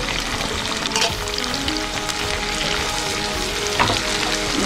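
Long-sliced onions frying with fennel seeds in a pan for egg puff masala, a steady close sizzle and crackle with occasional stirring scrapes, no voices.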